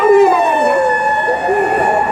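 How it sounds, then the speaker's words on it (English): A Japanese ambulance siren passing on a busy downtown street, its loud, wavering two-tone wail sweeping by close to the listener. "There goes a Japanese ambulance."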